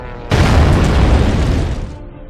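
A bomb blast in a film: a sudden loud booming explosion that bursts in and roars with deep rumble for about two seconds before cutting off.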